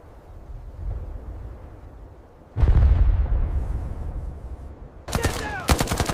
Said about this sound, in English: Allied artillery begins pounding the mountain slopes.